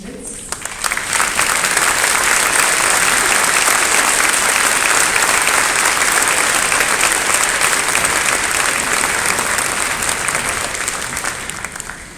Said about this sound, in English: We would love to give you a round of applause.